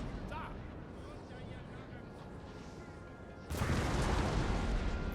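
Cannon artillery barrage in Napoleon Total War: a rumbling bed of distant gunfire gives way midway to a sudden, louder wall of roaring blasts, with a voice talking over it.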